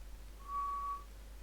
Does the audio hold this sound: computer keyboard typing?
no